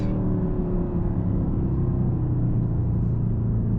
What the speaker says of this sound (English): Also, you have this grunt from the engine.